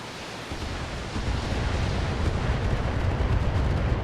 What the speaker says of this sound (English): That is a lot of missiles.